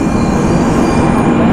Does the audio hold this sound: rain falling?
no